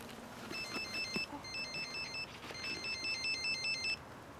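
A telephone ringtone repeats in a steady patterned burst of electronic trills while a call is being placed, three clear ring cycles at moderate, slightly distant level with faint room background and no talk.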